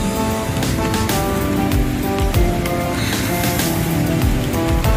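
Steady rain shower falling at a beach at night, a dense, even hiss of drops on surfaces with low rumbling underneath, continuous and fairly loud throughout.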